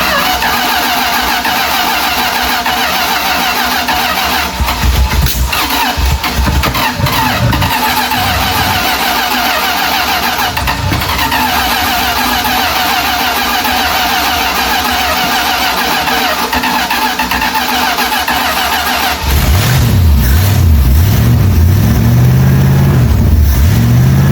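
A 1978 Dodge D150 pickup, left sitting for 20 years, runs with a steady, loud engine drone throughout, then revs up hard with rising and falling surges near the end.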